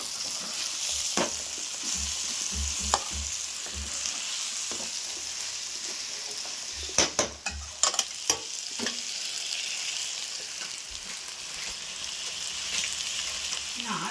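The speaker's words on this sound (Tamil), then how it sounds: "சால்ட் போட்டு அதையும் நல்லா மிக்ஸ் பண்ணிடலாம்" Vegetable fried rice with salt is stirred in a hot pan, giving a steady close sizzle broken by a cluster of sharp spatula scrapes and knocks midway, with no talking.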